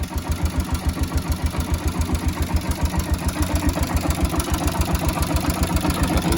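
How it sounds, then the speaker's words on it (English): Carbureted engine idling on a cold day, a steady rapid low-pitched chugging pulse that runs loud and unbroken throughout with no voices. "probably need to turn up the idle a little bit. It is cold outside"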